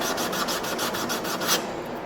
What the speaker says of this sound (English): This is my sanding block. It's just a piece of metal.